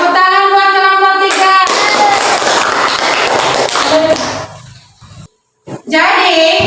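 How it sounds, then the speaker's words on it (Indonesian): A small group claps together in a classroom for a student group, with a brief burst of hand clapping between stretches of children's voices and a short gap of silence. "Tepuk tangan buat kelompok"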